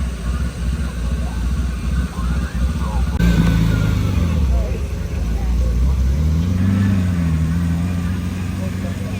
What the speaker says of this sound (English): the 250 GTO, pulling out right now, having a way easier time than the SP3 to come out